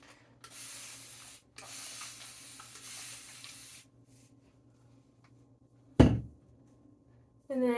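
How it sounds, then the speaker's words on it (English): Wave spray spritzed over day-three curly hair in two long, airy hissing bursts close by, each lasting about a second or more, followed by a quieter pause, one sharp thump, and then a brief sound at the very end. "I like to use this wave spray and just spritz it all over"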